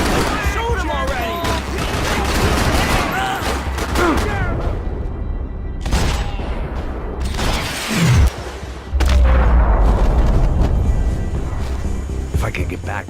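Gunfire and heavy impacts in Max Payne 3 on PC: a few sharp shots and booming thuds, with a loud low blast near the end, mixed under almost continuous talking from in-game characters.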